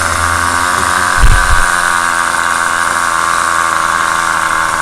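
A nitro RC engine runs loud and close with a continuous high, buzzing drone that holds steady, broken only by a brief low thump partway through.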